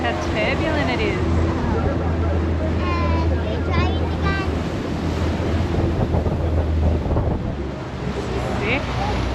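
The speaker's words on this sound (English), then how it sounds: "Look at all the water, how turbulent it is." Turbulent water churns and rushes around a jet boat in the Kimberley, a dense continuous wash with wind buffeting, and voices speak and exclaim over it.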